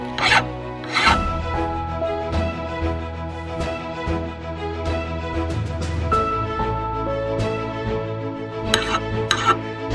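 A file is worked along the edge of an old axe to sharpen it. Repeated rasping strokes come up close and loud, with sharp metallic scrapes and clinks scattered among them.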